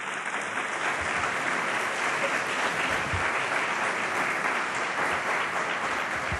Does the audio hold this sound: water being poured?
no